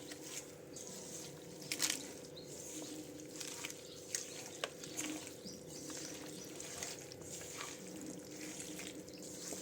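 Chicken biryani ingredients are mixed by hand or spoon in a bowl, making faint, wet, squishing sounds and soft clicks against a quiet room hum.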